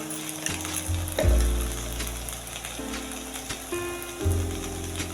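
Ginger paste and a spoonful of chili powder hit hot oil for a potato curry, crackling and sizzling close by with a few sharp clanks of a spoon against the pan, no talking.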